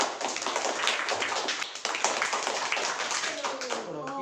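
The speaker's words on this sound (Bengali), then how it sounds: "চলো হাততালি" Classroom applause from a group of students, steady clapping and tapping running throughout, close and fairly even, with voices murmuring underneath.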